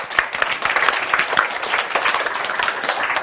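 A classroom audience applauds a student team after their design presentation, steady dense clapping from many hands throughout, fairly close and loud with no talking.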